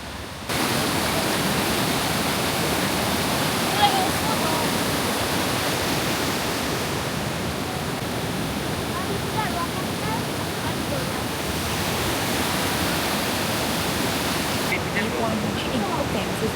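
A waterfall in Victoria, Australia, seen from a viewpoint at the end of a short bush walk, gives a steady, loud roar of rushing water that holds unbroken for the whole stretch.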